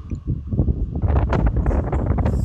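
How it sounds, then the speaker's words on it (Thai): Strong wind buffets a house door and its latch at a home, giving a steady, loud rumbling roar with gusty low rustling throughout and no talking. "ลมแรงมากครับ"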